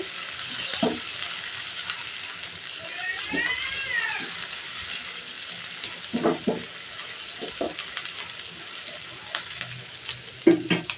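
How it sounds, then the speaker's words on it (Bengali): Onion frying in oil for a fish curry, a continuous hiss of sizzling with scattered spoon knocks against the pan and a brief meow-like squeal partway through. "পেঁয়াজটা দিয়ে আমি ভেজে নিচ্ছি"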